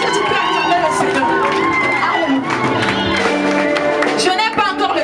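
Wedding congregation applauding and cheering the Lord, loud clapping mixed with shouts and excited voices, busy and close throughout.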